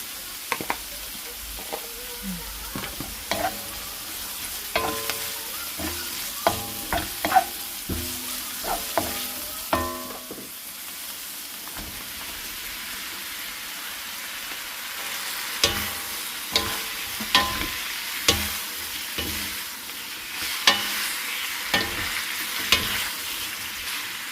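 Chili peppers stir-fried in a hot pan for Bicol Express, a steady close sizzle broken by repeated scraping stir strokes and clacks of the utensil, with no voices over it.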